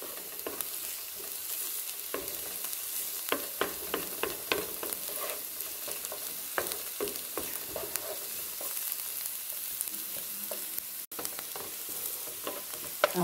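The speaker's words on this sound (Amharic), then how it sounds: "አሁን ሽንኩርቱ እንደዚህ እየተቁላላለኝ" Chopped onions and garlic frying in oil in a pan, a continuous close sizzle punctuated by frequent clicks and scrapes of a stirring utensil, with no voices.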